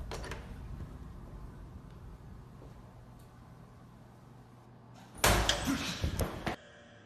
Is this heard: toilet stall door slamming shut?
yes